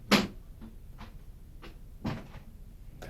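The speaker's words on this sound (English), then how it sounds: "Bang the door." A door is banged shut several times in a quiet room, with one sharp close knock, fainter knocks in between and a second firm bang near the end.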